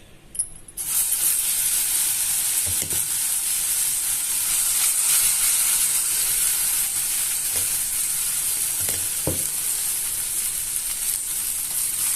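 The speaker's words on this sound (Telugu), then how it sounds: "ఇప్పుడు దెబ్బరొట్టె వేస్తున్నాను చూడండి" Black gram batter for dibba rotti sizzles in a hot pan with a constant bright hiss, broken by a few soft knocks of a utensil.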